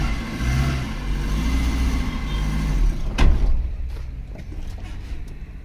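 Car engine running as the car is driven, a low steady rumble that rises slightly, followed by a sharp mechanical clunk and fainter ticking as the sound settles.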